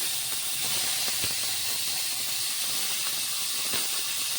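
Chopped onion hitting hot oil for a dried shutki fish dish, giving a steady, even sizzling hiss that carries on without a break, close and moderately loud, with only a few faint clinks.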